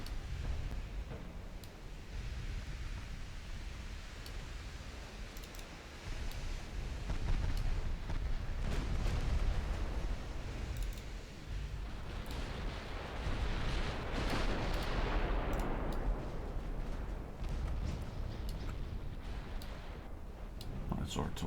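Naval gunfire in a World War II US Navy campaign video game, sustained heavy booming and rumbling barrages that swell and fade over a continuous dense roar, with occasional voices.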